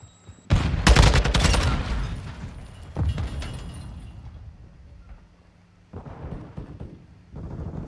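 A grenade goes off in Call of Duty Modern Warfare II with a loud, close blast and rumbling debris, followed by further thuds and distant gunfire that trail off.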